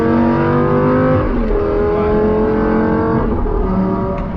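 A Lamborghini Gallardo engine revs hard, a loud throaty roar rising and falling close by, with a brief spoken word over it.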